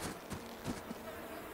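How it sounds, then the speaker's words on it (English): Bees buzz faintly in Kaku: Ancient Seal, a quiet insect hum with a few brief swells close by. "Bees."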